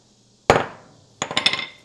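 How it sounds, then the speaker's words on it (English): A ball peen hammer hits a metal part on a Farris ZTR IS 3000 zero-turn mower: one loud, ringing strike, then after a short pause a quick burst of four or five lighter taps, close up with no talking. "pop it with your ball peen hammer."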